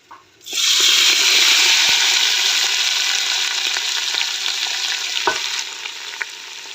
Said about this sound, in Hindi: अब ऑयल में ऐसे ही हम भुनेंगे अच्छी तरह गाजरों को